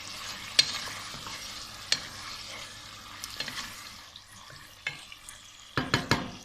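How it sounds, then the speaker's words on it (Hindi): Chicken in a pan mixed with cumin and coriander powder is stirred, with spoon scrapes and clacks over a low frying sizzle, including a burst of quick scraping near the end and no voices. "इन सब चीज़ों को अच्छी तरह मिक्स कर लेते हैं"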